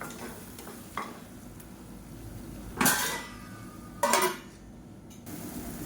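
Thick onion thokku being stirred in a pot, with a soft scraping and bubbling bed and two sharper metallic clanks that could be a spoon or the lid, close and otherwise quiet.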